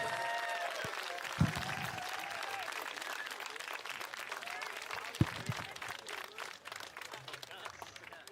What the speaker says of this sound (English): I want you to give a massive round of applause for Alex Williams